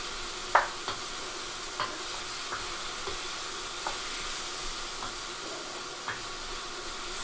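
Green onion stir-fried in a hot pan, a steady sizzle running throughout with occasional soft knocks of the spatula scraping and stirring, no voices.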